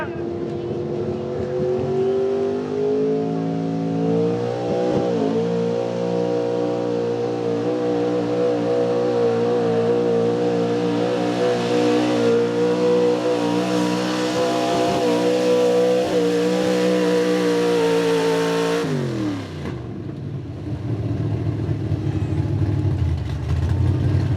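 A 1983 Chevrolet pulling in the Outlaw class at a tractor-pull style event roars at a sustained high rev for about nineteen seconds, loud and steady with a strong droning tone, then drops off abruptly as crowd noise carries on.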